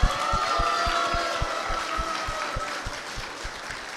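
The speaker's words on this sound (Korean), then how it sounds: "한 번 더 박수 부탁드리겠습니다." Audience at a political book event in Daegu claps together in a steady rhythm, a dense run of evenly spaced beats that fills the room and continues throughout with no speech over it.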